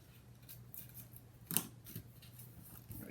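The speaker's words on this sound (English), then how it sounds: "I think I'll trim that so it won't show through the paper." Scissors trimming paper during a craft project assembling pocket pages, a single crisp snip standing out near the middle over a quiet background hum, with faint handling rustles before and after.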